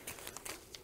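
Flamme Rouge game cards shuffled by hand in a few short papery riffles and crinkles, close and quiet, with no talking.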